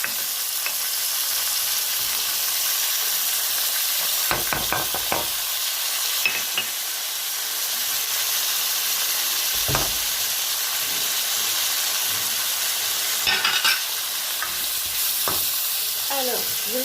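Garlic and vegetables frying in a pan, a continuous bright sizzle broken by occasional stirring scrapes and light utensil clinks, close and alone without speech.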